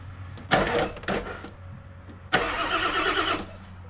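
Diesel truck engine on a gin pole truck cranking with ether sprayed into the intake, heard as three loud bursts of starter churning and rough turnover, the last one longer and sustained, close by with no talk.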